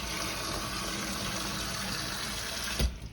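Water runs steadily from a tap or jug into an Instant Pot for pressure-cooking black-eyed peas and beef short ribs. The gushing is close and even and stops sharply near the end with a small clunk.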